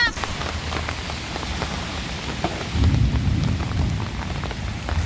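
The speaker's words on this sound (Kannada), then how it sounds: "ತಾತ ಈ ಮಳೆ ಬರುವಾಗ ಒದ್ದಾಡೋಕೆ ಏನು ಕೆಲಸ ಮಾಡ್ತಾನೆ ನೋಡಿ" Steady rain patters on a hard surface, swelling louder toward the end, with faint voices underneath.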